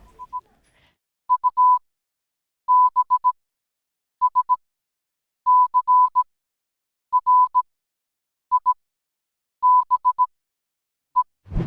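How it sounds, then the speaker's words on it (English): A lone tone of Morse code beeps in clusters of short and long pulses, clean and steady, with silent gaps between groups and a small thump at the very end. "That's Morse code"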